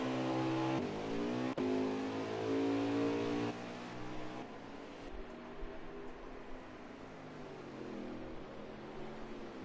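Muscle race cars accelerating hard at Watkins Glen, a loud engine roar with rising pitch that then drops to a more distant, steady drone of several cars.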